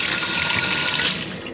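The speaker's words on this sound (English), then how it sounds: "I just flush water behind it because it is in my house." Water is flushed down a house sink drain in a loud, steady gushing pour that tapers off slightly at the end.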